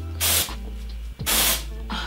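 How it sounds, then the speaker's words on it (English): Marc Anthony Strengthening Grow Long Volumizing Texture Spray misted onto the roots of a short bob wig in two close, loud bursts of aerosol hiss with a brief pause between. "This is the Marc Anthony Strengthening Grow Long Volumizing Texture Spray."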